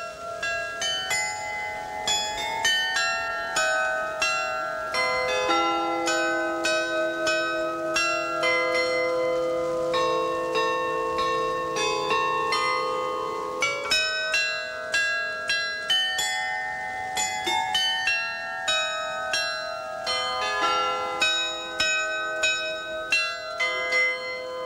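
The slightly out-of-tune bells of a Salzburg bell tower chime a melody, a long, continuous run of ringing bell notes with overlapping resonant tones and no voices.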